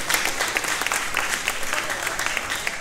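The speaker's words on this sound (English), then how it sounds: "They want a round of applause too, it's addicting." A crowd applauds steadily at a charity cocktail benefit auction, dense clapping of many hands holding an even level throughout with no pause.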